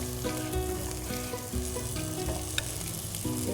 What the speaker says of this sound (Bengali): প্রথমে পেঁয়াজ দিয়ে দিচ্ছি।